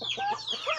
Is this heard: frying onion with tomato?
no